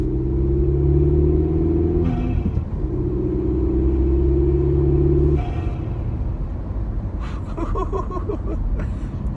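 A VW Polo 6C TSI fitted with a Tweek air filter gives off a loud, deep engine drone with steady low tones, which eases briefly, swells again, then fades into broadband road rumble.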